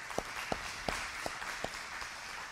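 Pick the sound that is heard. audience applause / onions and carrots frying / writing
audience applause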